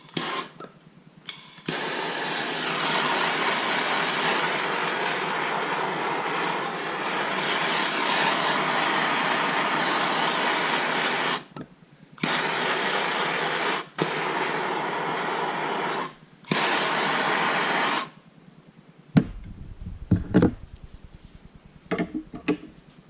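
A heat gun or torch heats an AER 48 motorcycle fork part with a loud, steady hissing roar that cuts off and restarts several times before stopping, followed by brief clatter.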